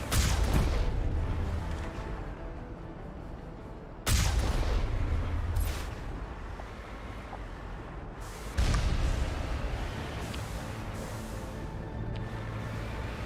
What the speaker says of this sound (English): They are so much more like violent when it comes to rockets on this one.